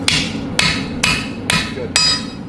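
A blacksmith's hammer strikes hot metal during forging, five loud, ringing blows at an even pace of about one every half second, close up, with no talk.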